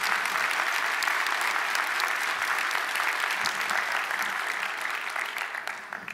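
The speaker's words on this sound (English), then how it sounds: "a thank you and round of applause for Paul's contributions" An audience at an open source awards ceremony applauds steadily, dense continuous clapping that fades slightly toward the end.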